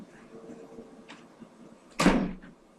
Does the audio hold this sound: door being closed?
yes